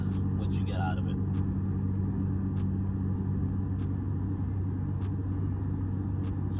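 A car fitted with a Magnaflow muffler cruises on a highway at 70 mph, giving a steady low exhaust drone and road rumble throughout, with regular faint ticking on top and a voice talking over it.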